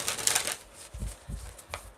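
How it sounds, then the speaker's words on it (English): Tarot cards being shuffled by hand, a few quick papery riffles and soft thumps close by, with short bursts and pauses and no talking. "We got to shuffle the cards up."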